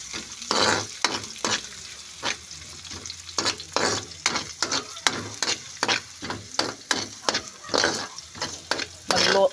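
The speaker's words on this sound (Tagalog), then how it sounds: "Pagsabayin ko ng bawang sibuyas." Garlic and onion fry in a pan for ginataang pakak, a sizzle under repeated scraping stirring strokes that come in short, irregular bursts with brief pauses between them.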